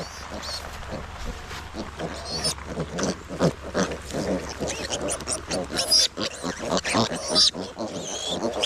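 Pigs grunt and snuffle inside a barn shelter on a rainy day, with a dense run of close, overlapping rough calls alongside a person speaking.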